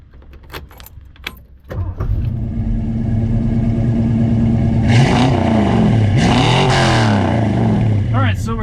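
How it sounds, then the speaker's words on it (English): A 1965 Ford Falcon with a 289 V8 and C4 automatic starts up and drives, its engine settling into a steady rumble, then revving and pulling through gear changes. Faint clicks and jangling come before the engine catches. "So we're going to go for a drive in the 1965 Ford Falcon with the 289, the C4 automatic."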